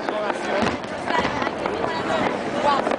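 Continuous crackling and popping fireworks burst through a Bonfire Night display, dense and fairly loud, with people chatting nearby under the bangs.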